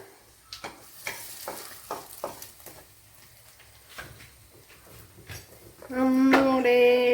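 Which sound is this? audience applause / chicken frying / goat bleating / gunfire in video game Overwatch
chicken frying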